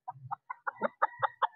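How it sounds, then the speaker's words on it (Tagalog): A very tall, large chicken at a poultry farm clucks nearby, about seven short, choppy clucks in quick succession with small gaps between them. "Sobrang tangkad na manok"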